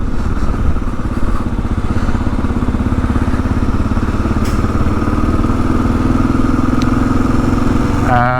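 A 2022 Kawasaki KLR 650 dual sport motorcycle engine thumps along at low revs while being ridden, a loud, close, steady rumble with rhythmic throb throughout.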